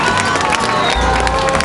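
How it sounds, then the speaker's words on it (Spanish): A loud, close crowd at a gathering of popular organizations claps and cheers, a dense wash of applause and shouts filling the short span. "Un aplauso, por favor."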